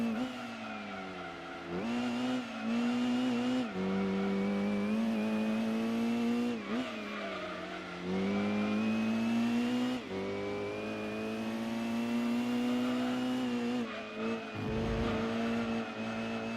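Game engine sound of a Mazda RX-7 in Gran Turismo 2: a steady droning rotary tone that rises and dips with shifts and cornering, with brief tire squeal near the end, no talk.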